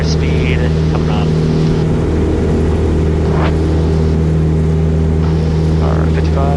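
A loud, steady small airplane engine drone at full takeoff power holds throughout with a constant low hum, with brief speech heard over the noise.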